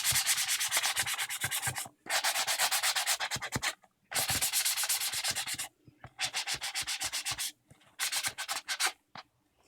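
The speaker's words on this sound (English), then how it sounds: "Now you can see I'm kind of sanding it all over." Steady back-and-forth rasping of a sanding block scrubbing a plastic toy gun, in bursts of quick strokes separated by short pauses, close up.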